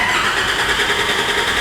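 A loud, steady diesel engine cranking on its starter motor with the injectors disconnected for a compression test, a continuous churning whirr with a fast regular pulse and no speech.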